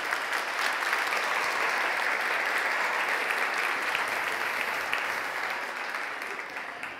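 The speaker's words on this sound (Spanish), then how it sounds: "Demos un aplauso a Jesucristo por ello." A church congregation claps during a sermon, producing steady, dense applause that fills the room for several seconds and tapers off slightly toward the end.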